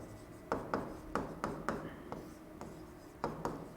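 Chalk taps and scrapes across a classroom board in short bursts, with several sharp strokes spaced irregularly and a faint room murmur beneath them, close and moderately loud.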